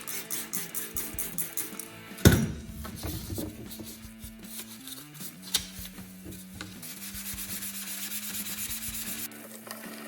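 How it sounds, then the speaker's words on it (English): Steady rubbing of 600 grit sandpaper wet sanding a BMW E36 headlight in a garage, repeated strokes, close and moderately quiet, with a sharp knock partway through. "first go around with 600 grit, wet sanding it"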